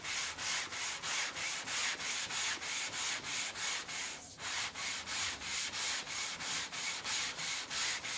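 220 grit aluminum oxide sandpaper tape on a homemade guitar fret leveling beam, rubbed in steady rapid back-and-forth strokes, a close, even scratchy rasp repeating about twice a second with a brief pause midway.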